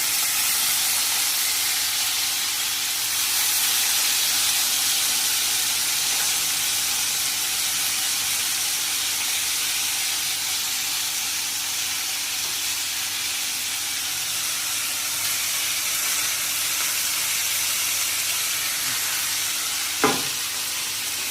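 Cluster beans and potato frying in oil in a pan give a steady, even sizzle and hiss throughout, close by, with a single brief clink near the end and no talk.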